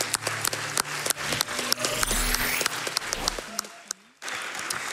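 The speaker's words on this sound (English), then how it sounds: "round of applause for Waifu." An audience at the GDQx 2019 speedrun event claps, with dense applause of many hands holding steady for several seconds, then stopping abruptly before a brief resumption.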